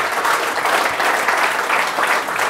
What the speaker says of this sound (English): So I'd like to just give them a round of applause.